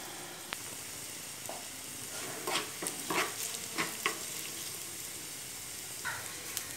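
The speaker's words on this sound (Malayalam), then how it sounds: "നമ്മുടെ ഉള്ളി മൂത്തിട്ടുണ്ട്" Onions sizzle and crackle in hot oil in a pan for a bitter gourd tamarind curry, with a steady frying hiss and a few sharper bursts of spattering and stirring in the middle.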